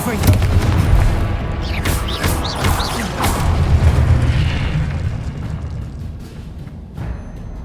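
A Confringo blasting spell goes off in the game Hogwarts Legacy with a loud, close boom that rolls into a long rumbling decay, laced with crackling magical effects, while a voice is briefly heard.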